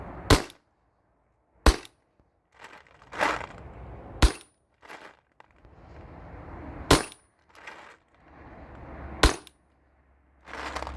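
Modified Valken M17 A2 paintball marker on a 13 cubic inch HPA tank firing single shots, about seven sharp loud cracks spaced irregularly a second or two apart, with quieter handling clatter between them.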